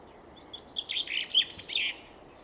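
A small garden songbird, one of the finches, dunnock or wren, gives a quick, bright twittering phrase of rapid high notes, moderately close over a quiet background.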